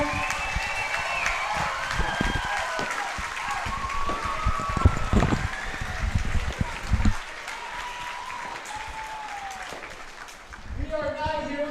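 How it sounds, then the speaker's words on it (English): Crowd applause at a baseball game between the St. Joseph Mustangs and Sedalia Bombers on July 4th, honoring veterans; sustained clapping and cheering from the stands with wind noise, fading near the end before rising again. "One more round of applause for all the veterans and actives who are running to present Independence tonight."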